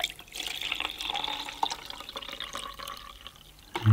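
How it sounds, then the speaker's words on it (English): Water running into the small tub of a Tomy Minimatic toy washing machine, a faint trickling and splashing fill with light drips, quiet and close, ending with a sudden louder thump. "fill it up with some more water"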